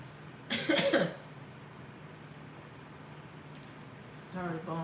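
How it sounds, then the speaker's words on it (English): A person gives a short, close burst of coughing, then stays quiet for a few seconds before speaking. "The cough means it's working."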